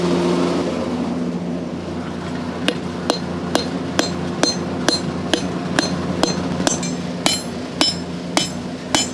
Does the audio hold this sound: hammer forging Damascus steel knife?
yes